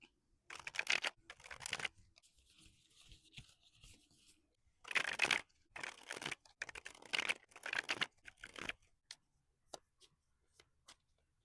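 A deck of tarot cards riffles and slaps in several quick bursts of shuffling with pauses between, crisp and close, ending in scattered light taps.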